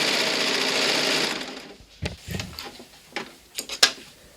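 Sewing machine feeding elastic into a shoulder seam of stretch fabric, a steady loud run for about a second and a half, then stopping and giving way to several short handling knocks and clicks.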